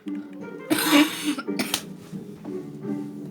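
A person coughs harshly a few times in close succession, loud and near, with throat clearing and brief speech around it.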